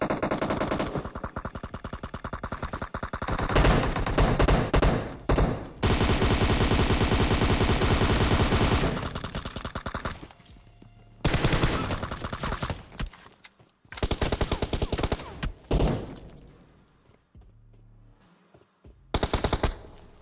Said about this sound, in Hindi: अब गोलियां चल रही है दबा के